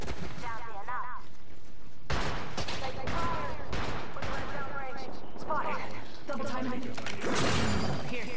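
Gunfire fills a match of the video game Apex Legends: repeated loud shots and bursts crackle close by without pause, while players talk over the shooting.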